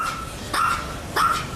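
Dogs bark at a home, two sharp separate barks spaced about half a second apart, fairly close and clear over quiet background noise.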